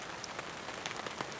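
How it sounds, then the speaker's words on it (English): Steady rain pattering on leaves and ground in the woods, a faint, even hiss with scattered individual drop taps, no voices. "it's kind of raining, and sometimes it's raining really hard"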